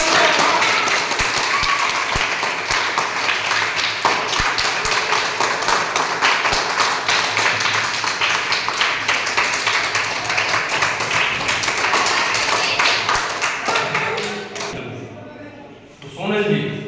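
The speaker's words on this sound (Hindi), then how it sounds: "जोरदार ताली बजाएं।" Loud, sustained clapping from a quiz-show audience rewarding a correct answer fills most of the stretch, then fades near the end, with a voice briefly heard.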